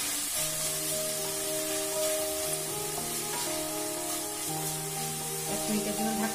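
Cauliflower bhujia sizzling in a pan as it is stirred, a steady soft frying hiss with faint scraping and tonal hum underneath, no voices.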